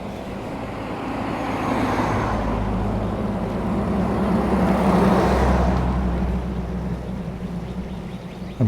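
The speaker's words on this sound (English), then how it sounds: "I'll have to wait for a car to come in the other direction to prove that out" A car drives past on the Sherman Street Bridge in Norwich, Connecticut, its tire and engine roar swelling as it approaches and fading as it passes.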